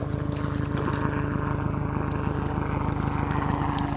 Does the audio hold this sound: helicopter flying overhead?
yes